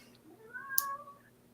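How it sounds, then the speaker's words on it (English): A single cat gives one faint drawn-out meow, distant and quiet under a low indoor hum. "if you can hear my cat in the background"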